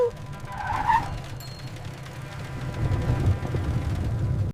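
A cartoon rickshaw swings round in a skidding sound effect: a brief high tire squeal early on, then a rumbling, rolling noise that swells and carries on to the end.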